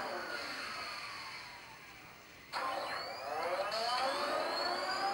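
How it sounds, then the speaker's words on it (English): Hess 2014 toy space cruiser playing its electronic take-off effect, a rising whine that resets midway and climbs again with layered sweeping tones, close and fairly loud. "If this is on the ramp, it sounds like this space cruiser is taking off."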